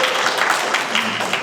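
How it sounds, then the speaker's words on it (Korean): Audience applause at an education research conference, a steady wash of many hands clapping that fills the whole moment at even loudness, with no voices over it. "박수 큰 박수 부탁드리겠습니다"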